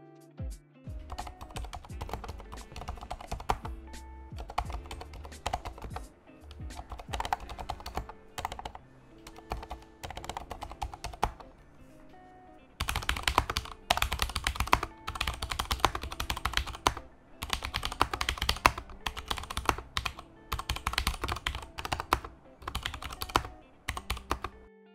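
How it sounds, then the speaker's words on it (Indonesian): Steady typing on a Durgod Fusion Retro mechanical keyboard, quick clustered keystrokes with brief pauses, then a louder, denser burst of clacking keys, close up. "ini adalah sampel dari suara saat lagi ngetik"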